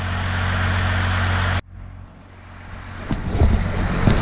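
A 502 whp single-turbo 1JZ Toyota Soarer with an external wastegate roars loudly from inside the car during a ride along, then cuts off abruptly after about a second and a half, leaving quieter cabin and road noise.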